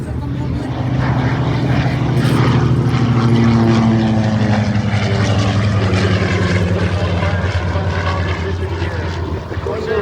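World War II propeller warplanes, an F4U Corsair, a P-51 Mustang and a Dauntless, drone past in a loud, sustained engine roar that swells and holds steady. Faint crowd voices sit underneath.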